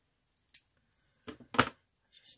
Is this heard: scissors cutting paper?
yes